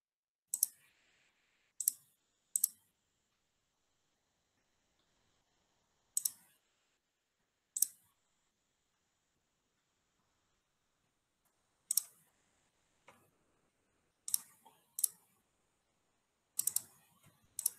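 Sharp, isolated mouse clicks on a computer during a video call to unmute a microphone, arriving in scattered single and double taps across a quiet room with no talk.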